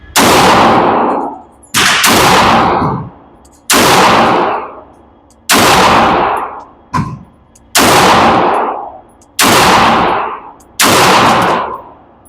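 Smith & Wesson M&P 2.0 .22 Magnum WMR pistol fired outdoors, eight loud sharp shots spaced about a second and a half apart, each with a short decaying echo, one quick double near the middle.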